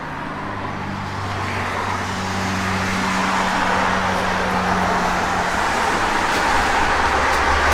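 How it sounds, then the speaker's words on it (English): A 1964 Chevy II SS with an H-pipe Flowmaster dual exhaust rumbles steadily and grows gradually louder, a deep low burble with no voices over it. "Good sounding H-pipe Flowmaster dual exhaust system in it"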